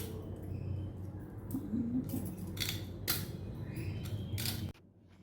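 Aakri vegetables peeled by hand at close range: a run of crisp, scratchy tearing and snapping bursts over a steady low background, ending abruptly in near silence.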